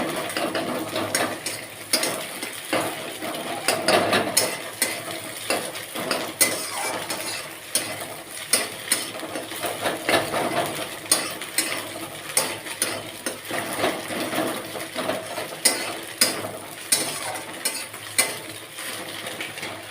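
Vegetables and egg frying in a pan while being stirred: a soft steady sizzle with regular rhythmic scrapes and clicks of a spatula against the pan, close by.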